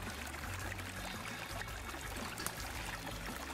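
A fast-moving small mountain stream, only a few feet wide, rushes in a steady, full wash of running water up close, with no pauses and no voices.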